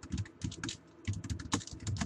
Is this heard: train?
no